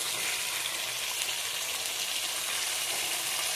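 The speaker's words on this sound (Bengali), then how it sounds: "দিয়ে আবারও ভালোভাবে কষতে থাকবো" Chili powder, Kashmiri red chili, sugar, salt, coriander and cumin powder frying in oil in a pan while being stirred for a raw jackfruit curry, a steady close, dense sizzle with no talk.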